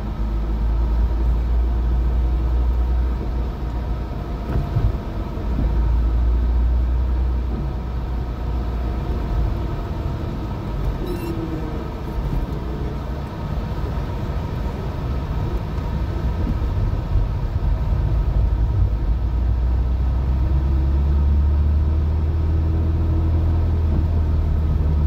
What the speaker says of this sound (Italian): Ventola con condizionatore